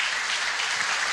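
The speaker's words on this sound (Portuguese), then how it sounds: "Você pode aplaudir a Jesus." A church congregation applauds during a sermon, a dense, steady wash of clapping from many hands filling the room.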